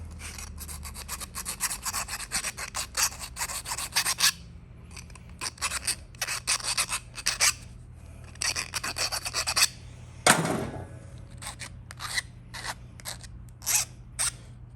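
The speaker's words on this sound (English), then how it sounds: "Get all the burrs off, all the edges" Filing and scraping off the burrs along the edges of a warm copper part, heard as a close run of quick rasping strokes in uneven bursts with short pauses and no talking.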